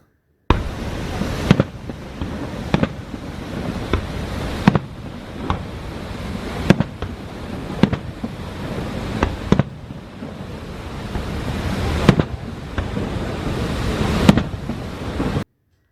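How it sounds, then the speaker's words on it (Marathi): Repeated fireworks bursts boom out one after another, each with a sharp crack and a crackling, rumbling tail, loud over a steady wash of outdoor noise. "आकाशात उंच उडणारे रंगीबेरंगी फटाके"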